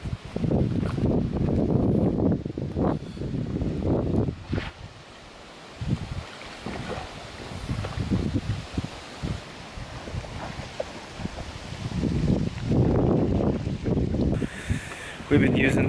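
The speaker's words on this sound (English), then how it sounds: "Sorry if it's like super windy." Strong gusting wind buffets the microphone outdoors beside the water, roaring in uneven bursts that swell and drop over the whole stretch.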